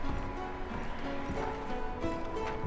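Horses' hooves clip-clop steadily in Red Dead Redemption 2, a near, rhythmic clatter over a low, constant game ambience.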